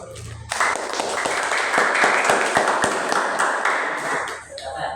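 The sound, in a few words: applause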